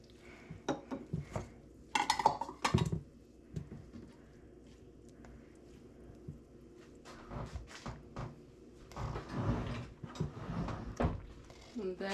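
Oatmeal batter stirred with milk in a bowl, irregular clinks and scraping of a utensil against the bowl in short bursts with quiet pauses between, close by and fairly faint.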